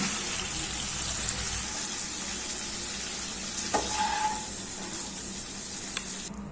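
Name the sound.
chicken gravy sizzling in kadai as water evaporates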